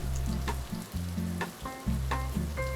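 Beef sizzles and crackles loudly in a hot pan for a few seconds, with brief scraping sounds from stirring.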